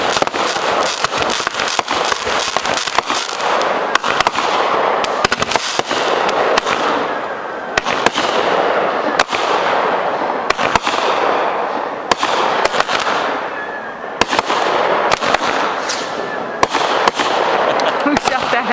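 Dense backyard 4th of July fireworks barrage, rapid crackling pops and bangs layered continuously for nearly twenty seconds, with family members talking underneath.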